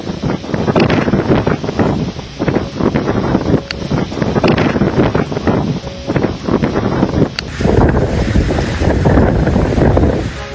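Gale-force wind from Cyclone Fengal batters the Puducherry coast, a loud, continuous roar buffeting the microphone with gusting surges and rushing, surf-like noise throughout, no voices.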